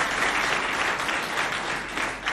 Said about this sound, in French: Applaudissez bien fort pour...